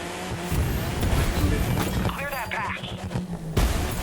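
A BMW Z4 M40i drifting in the racing game The Crew 2, with a revving engine, tire squeal and skidding running steadily for several seconds, and someone talking over it.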